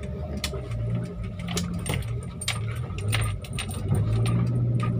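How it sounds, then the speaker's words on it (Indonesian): A loose steering column in a Toyota Avanza rattles and clicks in quick irregular bursts as the car drives over a rough, bumpy road, heard close inside the cabin over a low engine and road rumble. "adalah suara dari steering column ini yang sudah kendur,"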